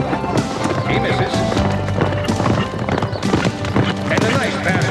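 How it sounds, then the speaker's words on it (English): A polo pony gallops across the field in a close, rapid clatter of hooves with a steady rhythm, while a commentator talks over it throughout. "He's riding my horse."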